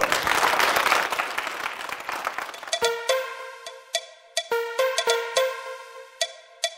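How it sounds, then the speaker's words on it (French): A television comedy show's studio audience bursts into loud applause that fades after a few seconds as punchy music with sharp hits takes over. "On applaudit très fort"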